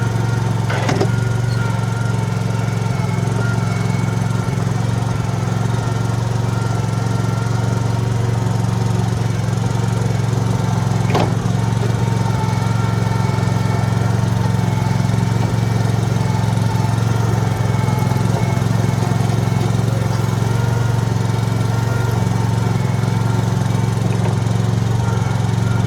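A cheap $500 skid steer's engine runs continuously nearby, a steady loud mid-pitched drone with a couple of sharp clanks over it and no talking.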